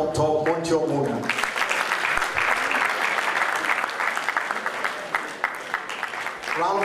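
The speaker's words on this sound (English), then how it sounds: "Round of applause." Audience applause at an annual residential convention, starting after a brief announcement from a man and continuing as a full, steady clapping from the crowd until the end.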